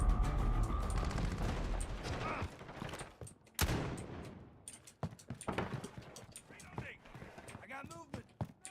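Gunfire in Call of Duty: Modern Warfare (2019), fairly quiet scattered shots and short bursts mixed with other game sounds, with a voice talking.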